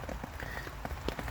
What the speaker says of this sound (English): I can sit and watch the rain now.